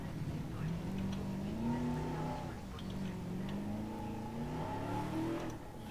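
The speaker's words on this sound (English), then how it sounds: "So let's quickly drive in the vehicle again." Vehicle engine in Jurassic World Evolution as the car drives, a steady moderate hum whose pitch rises and falls with acceleration, fairly close and continuous.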